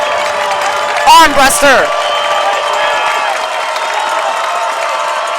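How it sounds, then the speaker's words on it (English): Crowd at a high school varsity football game between Hersey and St. Rita, cheering loudly under a nearby announcer's voice, with a brief burst of whoops and shouts rising over the steady roar. "I don't even know if you guys can hear us back there over all this crowd cheer"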